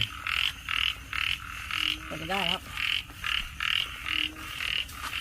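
Frogs croak near a rural Thai home in a steady pulsing chorus of about ten close, loud bursts, with a person speaking briefly in the middle.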